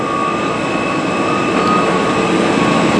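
A British Airways airliner's jet engines roar steadily at London Heathrow, a loud continuous whine with a broad rushing hum and sustained tonal lines, holding level throughout with no talking.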